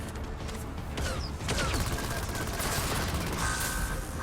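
Wonder weapon firing in Black Ops 6 Zombies, a fire-element wonder gun, heard as a steady run of bursty gunfire and mechanical clatter that grows louder midway, set against dense game noise.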